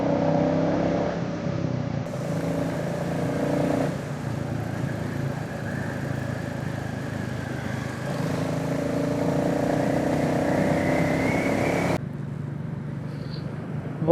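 Motorcycle engine running steadily while riding on the road to Bangalore, a continuous loud drone with shifting pitch as the bike cruises, with brief changes in engine note throughout.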